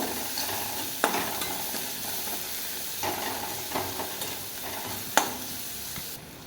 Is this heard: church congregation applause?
no